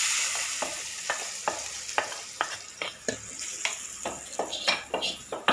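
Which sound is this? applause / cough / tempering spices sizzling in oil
tempering spices sizzling in oil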